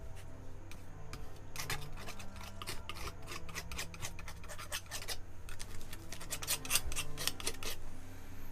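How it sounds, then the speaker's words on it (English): Acrylic paint is scraped across a layered painting in a steady, gritty rasp with quick repeated strokes, fairly quiet and continuous. "just scraping a bunch of paint randomly all over the place"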